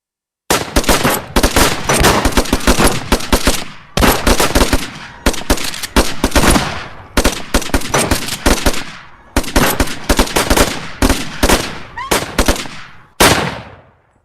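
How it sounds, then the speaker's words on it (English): Rifle volleys in a live stage reenactment of the Kent State shooting: loud, dense bursts of rapid gunfire in several clusters over about thirteen seconds, separated by brief gaps, ending in a final short burst. "The 28 men fire their weapons, and 67 bullets are unleashed in 13 seconds."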